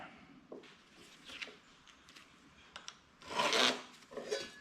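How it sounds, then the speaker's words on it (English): Countersink bit cutting holes for the bolts of a shelving unit, faint short rasping bursts of scraping, the longest and loudest near the end. "First, I start out with the countersink and a line."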